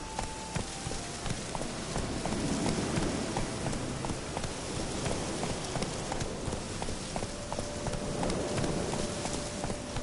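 Roach the horse in The Witcher video game, hooves clip-clopping in a steady, continuous walking rhythm close by under ambient game noise, with no speech over it.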